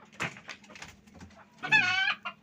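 Chickens on a poultry farm cluck and call in short bursts, with one louder, drawn-out squawk or crow standing out near the end; fairly close and heard alone.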